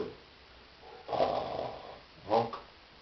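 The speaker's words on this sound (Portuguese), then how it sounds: "Ronca." Snoring from a sleeping person, two rough drawn-out snores rising over a steady background hiss, close and fairly quiet.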